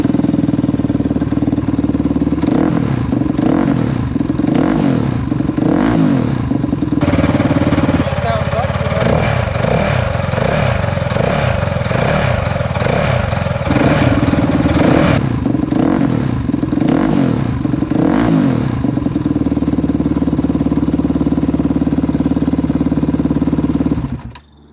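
A Kove 450 Rally motorcycle engine fitted with a titanium race exhaust runs loud and steady, idling with a deep rumble and a few blips of revving, close by throughout, with some talk over it.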